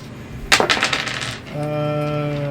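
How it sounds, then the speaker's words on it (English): Dice rolled during a tabletop roleplaying game session, a quick rattling clatter of several bright clicks over about a second, close, followed by a steady tonal hum. "I like hearing the sound of the dice."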